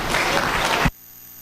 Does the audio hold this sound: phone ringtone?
no